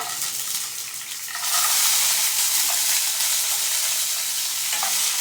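Chickpeas fry in hot oil with cumin seeds in a pan for a vegetarian thor ghonto recipe, a loud steady sizzle that jumps in intensity partway through, with faint scraping of stirring and no talking.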